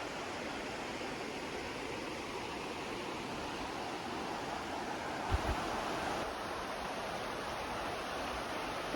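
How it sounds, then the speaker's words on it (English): Creek water pours over many small rocky cascades in a forest, a steady, broad rushing wash close by with a faint knock partway through, and no voices. "Just lots of little cascades. Very soothing waters."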